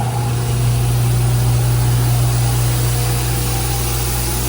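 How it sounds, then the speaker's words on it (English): A regenerative blower on a newly built electroforming tank runs steadily with a low, constant drone and a strong hum, alongside an exhaust fan, with no talking. "And there's the regenerative blower."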